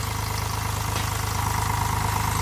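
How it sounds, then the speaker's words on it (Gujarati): A tractor engine idles steadily in a cotton field on a farm, a close, constant low throbbing rumble with an even pulsing beat and no voices. "ટ્રેક્ટર"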